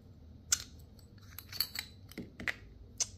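A protective jacket is pulled and cut off the cable of a TP Power 2960 brushless motor, heard as close, quiet snips and plasticky crinkles: a few sharp clicks spaced irregularly over a soft background rustle.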